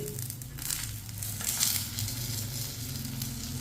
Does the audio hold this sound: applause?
no